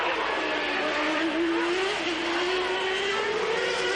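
Formula One cars at the 1992 Canadian Grand Prix qualifying, a loud, steady high-pitched engine scream that rises and shifts in pitch as a car powers through a third-gear left-right sequence, with a constant roar of racing noise.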